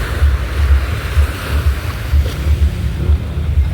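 Ocean surf at a beach on a random outing, a steady loud wash of breaking waves with gusting wind buffeting the microphone throughout, no voices present.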